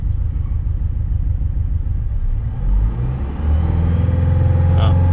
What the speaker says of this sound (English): So I'm going to rev the engine.